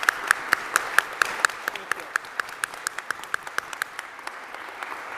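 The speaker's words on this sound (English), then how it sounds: "I would like to just applaud her service." Audience applause at a church leadership event honoring a synod participant, quiet steady rhythmic clapping that sounds like a few sharp, distinct hands, slowly fading over several seconds.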